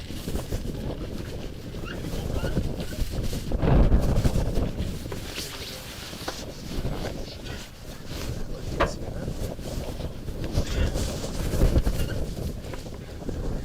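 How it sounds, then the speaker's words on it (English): Strong wind buffets the microphone in a continuous low roar, swelling into louder gusts now and then, with water sloshing faintly beneath. "It's windy and cold."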